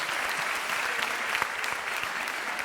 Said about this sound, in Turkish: Diğer sekiz arkadaşımız da müthiş oyunculuklarından dolayı onları da alkışlıyoruz, tebrik ediyoruz.